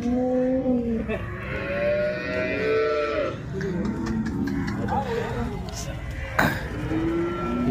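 A Holstein Friesian (HF) dairy cow at a farm gives several long, wavering moos close by, and other farm noises and a voice can be heard between the calls.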